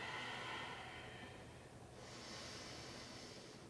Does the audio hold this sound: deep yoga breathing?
yes